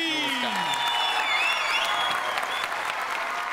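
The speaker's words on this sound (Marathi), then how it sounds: "जोरदार टाळ्या प्रसाद ओकसाठी." A studio audience at the Marathi comedy show Chala Hawa Yeu Dya claps steadily for actor Prasad Oak, a full, even wash of applause with a voice speaking over it.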